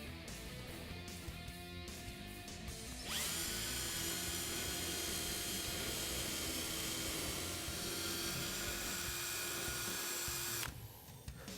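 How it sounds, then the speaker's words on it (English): A drill with a step bit spins up suddenly into a steady high-pitched whine, boring a 1/2-inch hood pin hole in a Mustang, runs for several seconds close by, then cuts off. "We're going to drill our actual 1/2-inch hole for our pin from the top."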